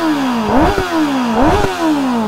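A Kawasaki ZX-10R sportbike engine revs twice in quick succession at idle, each throttle blip rising sharply and then falling back to a rough, loud idle, heard close up with no talk.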